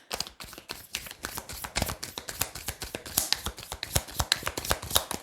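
Tarot cards laid down one after another onto others in a French-language card reading, giving a brisk run of crisp slaps and papery flicks close to the mic, steady and rhythmic with no talk.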